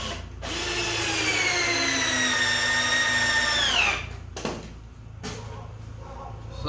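A power drill whirs steadily for about three and a half seconds, driving screws into a wooden workbench close by, then winds down; a couple of brief knocks and scrapes follow.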